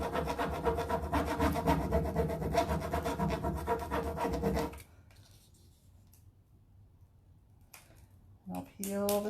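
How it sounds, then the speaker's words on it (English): Rubbing a sunflower transfer onto wood painted with a burlap-textured finish, giving a steady, close, raspy back-and-forth scrape for about five seconds before it stops, leaving near silence and a few faint handling noises. "Can you hear that as I'm rubbing? You can tell there's texture on my piece."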